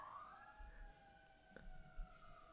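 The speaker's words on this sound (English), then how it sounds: "There's some LA sirens, LA police," Los Angeles police or fire sirens wail faintly in the distance, a long steady rising-and-falling tone with low street rumble beneath and no talk.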